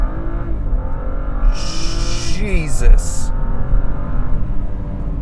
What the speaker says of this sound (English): N55 engine.